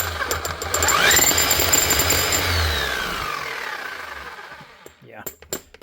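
A repaired rotary hammer drill runs with a loud, dense mechanical hammering that holds steady for several seconds, then winds down and stops, leaving a few faint clicks and handling noises.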